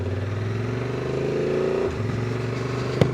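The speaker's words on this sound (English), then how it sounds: "I can get the bike in 6th gear, for example, and easily I can get it back to the 1st gear." A 2026 Honda Transalp 750 with E-Clutch runs close by, its engine note steady then dropping as a gear changes, followed by a sharp mechanical click near the end.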